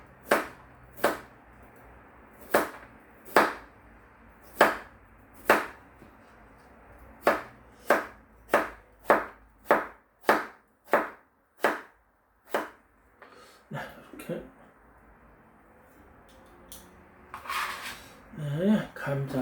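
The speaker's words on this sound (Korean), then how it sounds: "감자 수제비니까 감자가 이렇게 조금 자르고요." A knife chops potatoes on a cutting board in a steady rhythm, about fifteen crisp close strikes, followed by soft rustling and handling noises.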